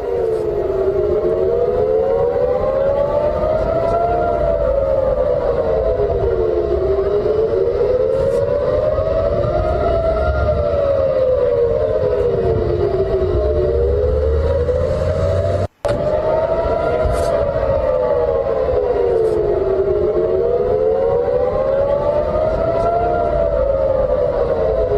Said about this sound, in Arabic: ونستمع لذوي صفارات الإنذار التي انطلقت إثر الرشقات الصاروخية